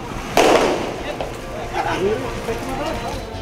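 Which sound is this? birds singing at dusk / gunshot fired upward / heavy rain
gunshot fired upward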